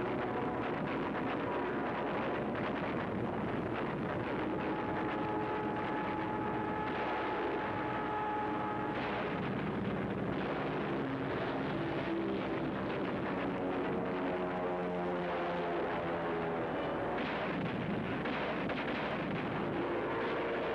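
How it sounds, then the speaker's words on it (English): Aircraft engines drone over a continuous rumble of distant explosions and heavy gunfire during the 1942 Battle of Midway, with carrier planes and bombers, pitched tones rising and falling through the dense, loud battle noise. "Planes roared from the decks of our carriers, army bombers, marines, thundered destruction over a 300-mile battle area."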